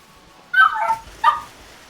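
Dog barking in the background at a gaming streamer's home, two short bursts of barks at moderate loudness with no talk over them.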